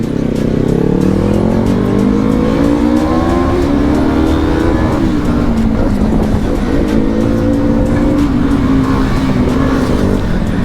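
A Kawasaki H2R hyperbike rides fast, its engine droning loud and continuous with rising and falling pitch as it accelerates, heard up close over steady wind rush.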